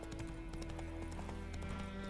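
Hooves of the horse Roach clip-clop steadily in The Witcher 3 during a griffin hunt, a continuous rhythmic clatter with game music and ambience underneath.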